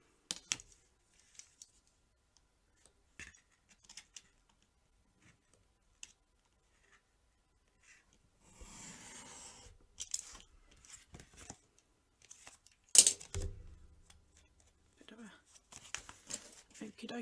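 Scissors trimming paper for a stamped card, a few soft close snips and paper rustles amid quiet handling, with a voice talking in places.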